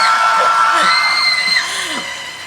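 Festival audience at an open talk in Busan cheering and whooping, a loud crowd roar with rising shouts that holds steady and then eases slightly toward the end.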